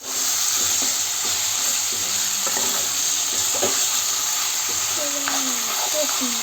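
Mutton sizzling in hot oil in a pan, with a steady frying hiss throughout and occasional stirring clatters and scrapes.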